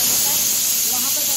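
A pressure cooker cooking potato and cauliflower lets out a steady, loud hiss of escaping steam, close by and continuous, with a faint voice underneath.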